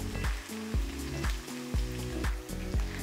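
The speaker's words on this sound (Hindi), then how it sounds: "देखें हमारा लहसुन भी बहुत अच्छी तरह से भून चुका है।" Garlic fries for a chickpea breakfast dish, sizzling loudly and continuously in hot oil with a rhythmic pattern of spatula or stirring strokes on the pan, and no voices.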